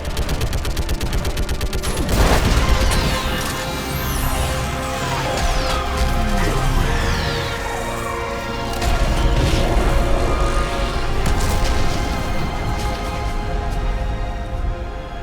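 Sustained gunfire and heavy weapon fire in the sci-fi video game Mass Effect 3 during a battle against a live Reaper, dense and loud throughout with crashes and booms layered over the continuous shooting.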